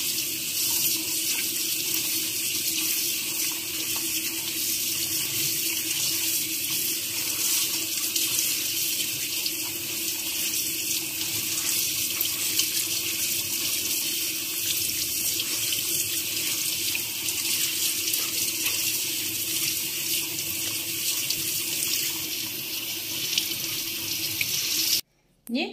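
Raw liver is washed under a running kitchen tap, with a loud steady gush of water splashing into the sink close by, stopping abruptly at the very end.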